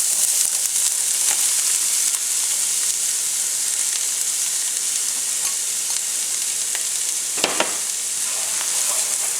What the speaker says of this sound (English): So we have our olive oil heated up over a medium-high heat. To this we are going to add our onions.